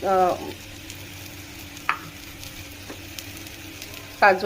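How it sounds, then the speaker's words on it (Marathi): Spices sautéing in a pan for vegetarian matar kheema, a soft steady sizzle with faint scraping and a few light clicks of stirring, brief voiced sounds at the start and end. "हे सगळे मसाले आपल्याला याच्यामध्ये घालून पुन्हा एकदा याला छान परतून घ्यायचं आहे"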